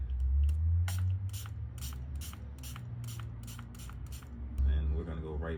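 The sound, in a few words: aerosol spray on suede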